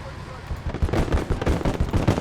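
Artillery in a WWII video game battle fires in a dense, crackling stream of overlapping blasts and pops that holds at a steady level throughout.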